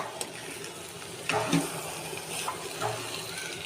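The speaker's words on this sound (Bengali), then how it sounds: "তো আমি একটু নাড়া দিয়ে দেবো।" Zarda sweet rice is stirred in a pot at home, giving soft scraping and wet shuffling sounds in a few short, close bursts over a low background hiss.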